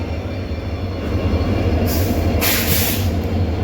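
The Poorna Express rumbles steadily as it climbs a ghat section beyond Castle Rock, with banking engines attached, giving a loud continuous rolling drone and bursts of hissing air partway through.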